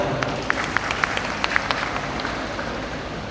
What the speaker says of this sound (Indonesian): Kita kasih aplaus untuk beliau.